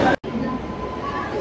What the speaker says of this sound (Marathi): आणि अशा प्रकारे आपली ट्रेन आली आहे।